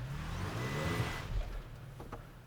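A 2021 Toyota Tacoma Nightshade pickup straining to drive forward in snow, its engine giving a low, steady close-up drone that swells briefly and then eases, with no talking.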